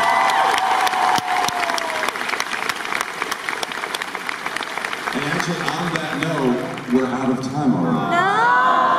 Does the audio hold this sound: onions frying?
no